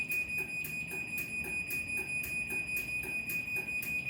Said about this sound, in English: If you hit close right now, it should make a 30-second beeping noise, and the light's flashing.